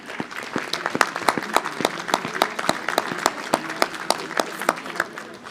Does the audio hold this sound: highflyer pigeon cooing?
no